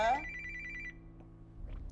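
An indoor telephone rings in a short burst that cuts off. Low background noise and faint sounds follow.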